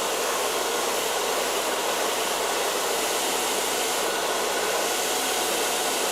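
A hair dryer blows hair during a skin fade haircut in a barbershop, giving a steady, loud, close whooshing roar that runs unbroken throughout with no talking.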